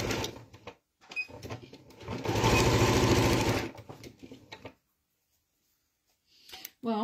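A sewing machine runs in short bursts of rapid mechanical stitching, stopping and starting, with a longer steady run in the middle and a brief voice at the end.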